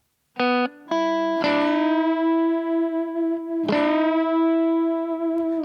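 Electric guitar plays a short lick, then a bent note rises and sustains, followed by a second bent note that rings out with slight distortion.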